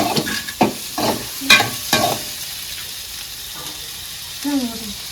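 Tomatoes fry and get stirred in a pan for a prawn gravy: several close scraping stirs over a soft sizzle, quieter toward the end, with a brief voice near the finish.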